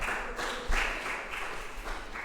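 Congregation applauding for the Lord during a bilingual church service, a steady wash of clapping from many hands with slight swells, no voices over it.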